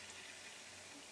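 Half a cup of water pours steadily into chickpea flour for socca batter, a continuous hissing rush of liquid with no talk.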